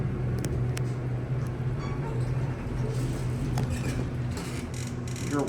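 An original Westinghouse hydraulic elevator motor in an office park atrium hums steadily at a low pitch, with faint mechanical clicks and rattles over the continuous drone, close and unbroken throughout.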